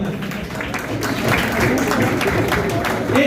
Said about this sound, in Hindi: बुलंद आवाज से तालियों की आवाज जो है वो सुनाई दे।